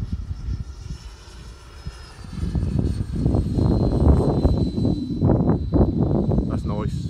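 A Freewing Typhoon 90mm model jet on approach gives a faint hiss that swells after a couple of seconds into a louder, fluttering whoosh as it passes near.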